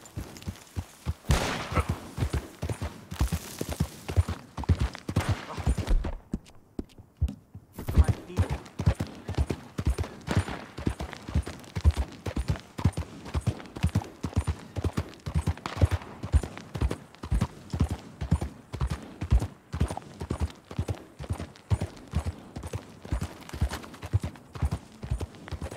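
A horse in the video game Red Dead Redemption 2 gallops, rapid hoofbeats clopping steadily, loud and close, with a brief quieter break early on before the pounding resumes.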